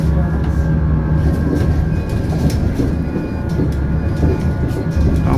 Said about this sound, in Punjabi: ਮੈਟਰੋ ਵੀ ਚੱਲੀ ਜਾਂਦੀ ਹੈ